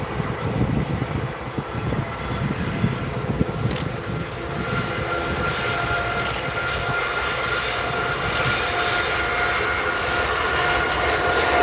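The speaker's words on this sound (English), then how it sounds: "And this TUI Dreamliner is off to Larnaca." TUI Boeing Dreamliner jet airliner departing runway 23L at Manchester Airport, a loud continuous engine roar rising and rumbling steadily for the whole stretch with no talk.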